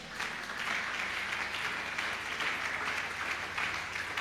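A church congregation applauds at a service, steady sustained clapping from many hands filling the room for several seconds.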